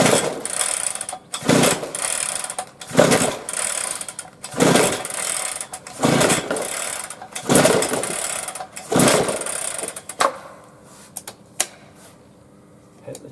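A small engine is cranked with the choke on in a string of loud, close, sputtering pulls, each a brief burst of mechanical whirring, roughly every one and a half seconds, before quieter ticking and silence.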